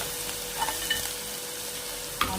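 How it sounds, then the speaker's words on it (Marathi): Onion, ginger and garlic paste frying in oil, a quiet steady sizzle with a few light clicks of a spoon against the pan, close, with a sharper tap near the end and no talking. "कांदा अद्रक लसणचं पेस्ट हे थोडं आपण तेलामध्ये थोडं लाल करू त्यांचं भाजून घेऊन"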